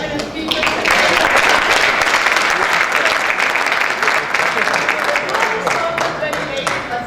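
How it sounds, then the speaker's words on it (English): Conference audience at a Rotary district plenary session breaks into sustained applause for the speakers, a dense wash of many hands clapping that holds steady for several seconds, with voices faintly mixed in. "Can we give a second applause to all our eminent speakers?"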